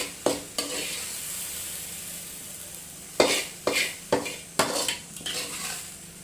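A spatula stirs an okra (bendakaya) tempering in a sizzling pan. Steady frying hiss runs underneath, broken by sharp metallic scrapes and knocks, two early and a cluster of five in the second half.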